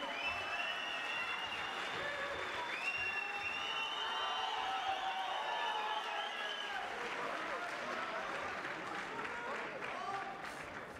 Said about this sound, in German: Großer Applaus, bitteschön.